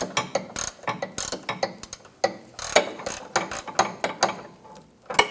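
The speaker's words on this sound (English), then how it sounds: "I'm going to take the nut off the rest of the way" A ratchet wrench clicks in quick, uneven bursts, close and clear, while it backs a nut off the front sway bar link on a 2013-2022 Buick Encore. There is no talking.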